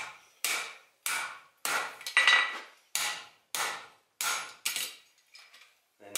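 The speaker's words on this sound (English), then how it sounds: "hammer right in the center to get that to lay flat" A hammer forging metal over the edge of an anvil while shaping a split cross, struck in about ten sharp, ringing blows at a steady rhythm, loud and close, with no talking.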